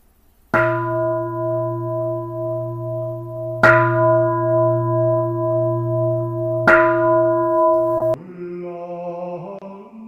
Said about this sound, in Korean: 종이 울리면 묵상하시고